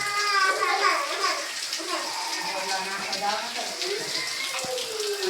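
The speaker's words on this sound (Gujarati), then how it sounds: "વરસાદ તો ફૂલ ચાલુ છે અને આ બધે વરસાદ પડે" Heavy rain pours down steadily outside, a dense, continuous hiss of falling water with splashing, while faint voices talk in the background throughout.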